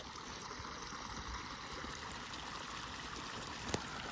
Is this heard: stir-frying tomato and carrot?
no